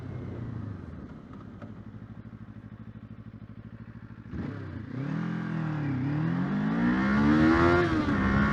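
A Kawasaki 500 motorcycle engine drones steadily at low revs, then shifts and accelerates hard, its pitch climbing through the gears in a loud, close, rising roar with no talk.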